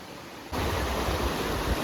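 A village river rushes past in a steady, broadband wash of flowing water; it starts quieter, then swells louder after about half a second and stays continuous and close, with no talking.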